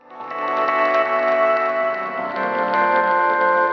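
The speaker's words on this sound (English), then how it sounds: "if you put delay after the reverb, what you're going to do is you're going to be making repetitions of the reverberated space" A sustained, washy tone smeared by heavy reverb, with a delay placed after the reverb repeating the reverberant tail into a thick, slightly muddy wall of sound.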